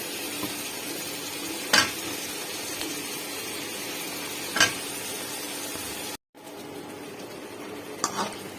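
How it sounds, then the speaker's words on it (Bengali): Vegetables fry in a pan with ginger, garlic, cumin, coriander, chili and salt: a steady near sizzle, broken by a few sharp scrapes of a spoon stirring. "আমার মশলা সবজিটা কষানো হয়ে গেছে"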